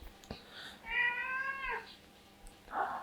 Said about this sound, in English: very hungry, cracked out cat